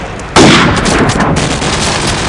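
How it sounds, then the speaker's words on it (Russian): Gunfire bursts out in a Call of Duty Black Ops firefight: a loud, sharp volley lands abruptly and rattles on as a dense roll of shots with echoing tails, no voices. "там уже плотную пошла перестрелка"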